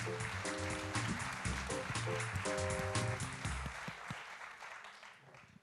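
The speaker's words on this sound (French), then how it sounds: "Merci de faire un tonnerre d'applaudissements à Louis-Philippe Blervac, Laurent Degène," A conference audience applauds to welcome speakers to the stage at a regional event on methanisation, a dense, sustained patter of many hands that fades toward the end, with faint tonal music underneath.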